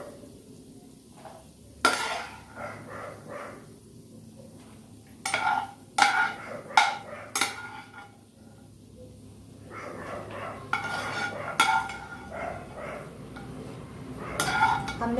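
Roasted cashews being scooped out of a ghee-coated pan onto an empty plate after the flame is turned off, giving scattered metallic scrapes and clinks of a spoon against the pan over a quiet kitchen background.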